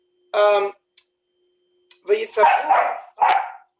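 A dog barks in short bursts indoors, two or three yelps near the start, then people talk over a few more barks.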